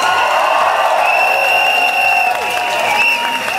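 A concert crowd applauds and cheers for a singer, a steady, even wash of clapping and whoops that holds at full volume from start to finish.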